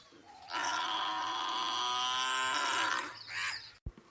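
A buffalo in an animated comedy lets out one long, loud, drawn-out moo lasting a few seconds, then a short grunt, with no voices alongside.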